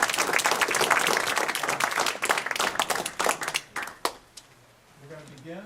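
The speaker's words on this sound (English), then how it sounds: "how about a big round of applause?" Audience applause at a community forum in the Village of Medina, New York, dense and loud at first, then thinning into scattered claps and fading out as a voice begins to speak.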